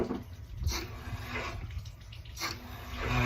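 Water runs from the inlet into a 270-litre iStore heat pump tank being flushed of calcium build-up, a soft continuous gushing and splashing that stays fairly faint and steady.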